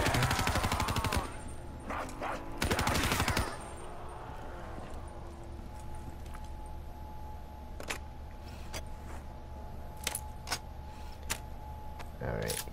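Gunfire from shooting zombies in the video game Black Ops 3: loud bursts of rapid shots at the start, then scattered single cracks later over steady game background, with a voice talking now and then.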